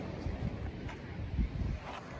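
Steady wind buffeting a microphone on a rocky coast of Fuerteventura, loud rumbling gusts that swell and ease throughout, with no clear voices.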